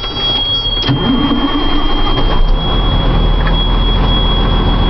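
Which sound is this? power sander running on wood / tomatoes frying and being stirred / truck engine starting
truck engine starting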